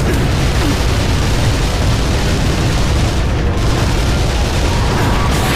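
A loud explosion in the third-person shooter Vanquish, a dense, continuous roar of blast noise that fills the whole stretch with little variation and no clear speech.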